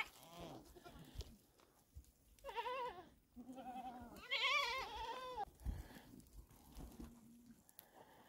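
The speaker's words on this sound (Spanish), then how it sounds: "Tengo varias cabras que son criadas con mamadera algunas." Goats, some of them bottle-raised, bleat in a high-altitude village in Fiambalá, a series of wavering nasal cries from fairly close, with a few low voices and rustling between calls.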